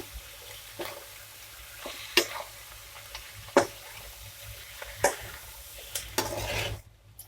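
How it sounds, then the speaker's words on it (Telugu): Street-style veg noodles tossed and stirred in a pan, with a soft sizzle under a series of sharp utensil scrapes and clinks against the metal, close and fairly quiet, no talking. "బాగా మిక్స్ చేసుకున్నాము"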